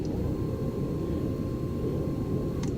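A jet engine in Arma 3 roars as a loud, steady, broadband rumble with a faint whine, holding constant at high thrust for a few seconds.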